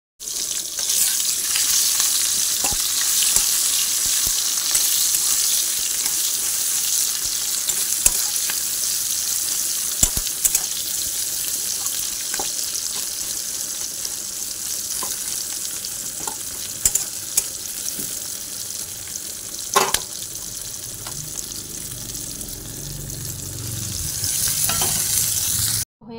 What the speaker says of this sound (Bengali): তো ওইভাবেই ভাজবো, পেঁয়াজ দিয়ে একটু মাখো মাখো করবো